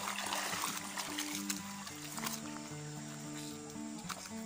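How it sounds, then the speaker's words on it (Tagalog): Clean river water flows by a mountain trail in the early morning. A continuous, fairly quiet rushing and trickling wash sits under a faint tonal hum, with no voices. "Ah, ito na yung ilog."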